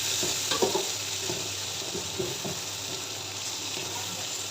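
Tomatoes and green chillies frying in a pot give a steady hiss, with soft stirring clinks near the start and a few light knocks later, close and fairly quiet, with no talking.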